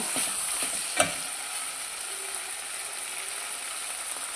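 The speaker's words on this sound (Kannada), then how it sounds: "ಈಗ ಇದಕ್ಕೆ ನಾವು ಬೇಯಿಸಿಟ್ಕೊಂಡಿರೋಂತಹ ಗೋರೆಕಾಯಿನ ಹಾಕ್ಕೊಳ್ಳೋಣ ಹಾಕಿ ಒಂದ್ಸಲ ಚೆನ್ನಾಗಿ ಮಿಕ್ಸ್ ಮಾಡೋಣ" Cooked cluster beans are stirred into a hot pan, giving a continuous soft sizzle and frying hiss with one sharp scrape or clink of the spoon early on, and no talking.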